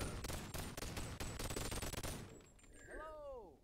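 Rapid gunfire bursts crackle through the first two and a half seconds in Boneworks, a dense volley of shots, before fading to a quieter stretch with whooshing sweeps and warbling tones.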